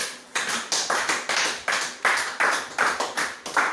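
Church congregation clapping in acclaim of Jesus Christ, about a dozen sharp, evenly spaced claps in a steady rhythm, loud and close, with no talk.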